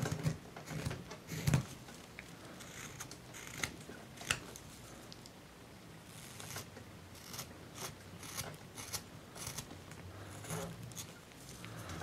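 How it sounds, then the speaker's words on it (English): Small chisel carving a wooden owl, giving a run of scraping, crackling cuts into the wood that are close but fairly quiet, in irregular bursts with short gaps. "Where's my smaller chisel here?"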